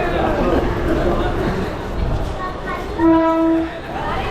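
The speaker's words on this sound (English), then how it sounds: "Stepping out of a moving train." A moving commuter train in Mumbai rumbles loudly and steadily, and a horn sounds clearly near the end. Voices are audible in the carriage.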